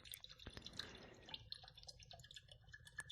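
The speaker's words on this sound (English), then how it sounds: "Just pouring a drink." A drink poured into a glass, quiet trickling and dripping liquid with small splashes and clinks, faint and close, no talk.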